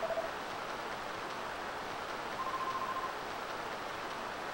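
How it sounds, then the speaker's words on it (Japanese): Heavy rain falls in Dragon Quest VII, a steady dense hiss of downpour that stays constant throughout, with a faint tonal game sound drifting in briefly and no voices. "雨強いじゃん。"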